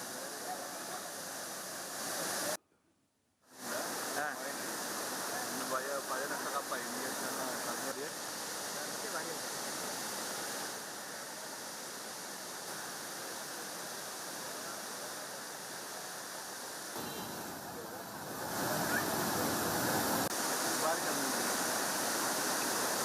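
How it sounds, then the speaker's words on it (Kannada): Abbey Falls waterfall at Madikeri, water rushing and crashing in a steady, dense roar close by, broken by one brief silent gap and swelling louder toward the end. "ಯಾವ ರೀತಿಯಾಗಿ ಧುಮ್ಮುಕ್ಕಿ ಹರಿತಾ ಇರುವಂಥ ಜಲಪಾತದ ದೃಶ್ಯ ಇದು. ಅಬ್ಬಿಕೊಲ್ಲಿ ಫಾಲ್ಸ್ ಇದು ಮಡಿಕೇರಿದು."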